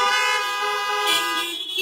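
Car horns honk together in a loud, sustained blast lasting nearly two seconds, ringing out with a bright, harmonic tone and no talking.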